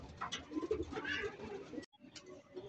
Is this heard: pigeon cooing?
yes